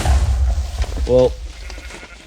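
A single Minecraft sheep bleats once in a short, wavering burst over a loud, rumbling game background, with a skeleton and a chicken nearby in the same world.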